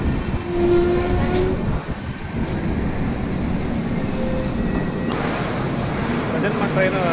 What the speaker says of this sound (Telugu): ప్రజెంట్ మన ట్రైన్ ఎస్కోట ఆగింది